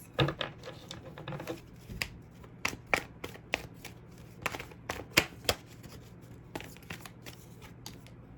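Tarot cards shuffled in a quiet room: a run of crisp riffling bursts and sharp slaps at irregular intervals, close and clear, with no talking.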